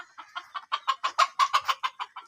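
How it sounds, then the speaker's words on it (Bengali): Local desi chickens kept by a villager cluck in a quick run of about a dozen rhythmic, nasal calls, close and fairly loud, building in strength and then tapering off, with no talking. "এই যে মুরগি দেশি মুরগিগুলো উনি পালন করে"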